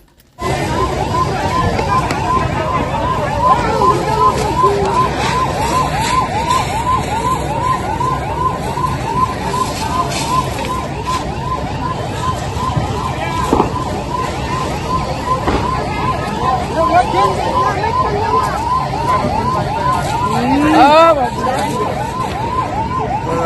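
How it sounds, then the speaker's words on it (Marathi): Fire engine sirens wail continuously at a furniture shop fire in Nashik, loud and close with steady rising-falling cycles, mixed with traffic rumble and a voice talking over them. "अग्निशामक दलाच्या दोन गाड्या या ठिकाणी पोहोचलेल्या आहे"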